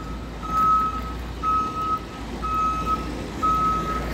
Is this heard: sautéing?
no